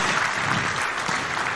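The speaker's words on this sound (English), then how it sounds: "One more round of applause for His Excellency." A crowd at a Kenyan political event in Syokimau, Machakos County, breaks into loud, dense applause for a president, a continuous roar of clapping with no voices on top.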